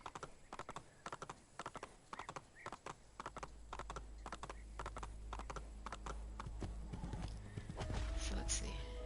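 A horse's hooves clip-clop in a steady, rapid rhythm in Assassin's Creed: The Ezio Collection, with a rumbling layer swelling beneath toward the end.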